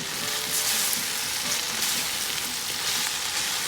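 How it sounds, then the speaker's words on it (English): Kale is folded into frying chilies, carrot, celery, onion and garlic in a soup pot, making a dense, even sizzle with soft stirring rustles. The sound is continuous and close, with no speech. "So I'll gently kind of fold that in"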